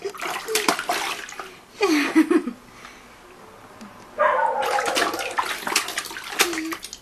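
Baby splashing water in an ofuro soaking tub, with bursts of wet slapping and splatter between quieter gaps, close and fairly loud, while an adult talks and coos over the splashing.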